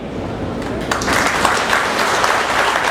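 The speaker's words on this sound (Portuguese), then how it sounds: "Vou pedir a vocês que uma salva de palmas para quem já irriga." Crowd applause at a coffee irrigation conference in Brazil, a steady dense clapping that swells after the first second and holds loud and even throughout, with no talk over it.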